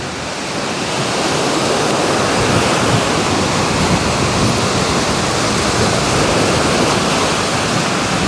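Ocean surf rolls onto a beach as a dense, steady roar of breaking waves, loud and close, with some wind buffeting the microphone and no voices.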